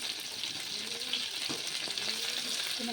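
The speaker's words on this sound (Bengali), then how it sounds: "কুমড়ো ডাঁটাটা আপনারা একটু ভালো মতন করে তেলে একটু কষিয়ে নেবেন" Pumpkin stems frying in oil in a pan, a steady close hiss and crackle with faint stirring scrapes, no talking.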